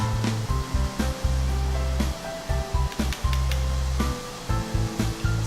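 Soya chunks sizzle in a hot pan with only a little salt and no oil, a steady, close hiss broken by brief gaps and scraping stirs, with a low hum running underneath.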